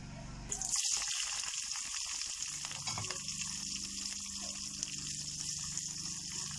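Aubergine slices fry in oil in a pan, giving a continuous close sizzle with fine crackling and spitting that swells briefly near the start and then stays steady.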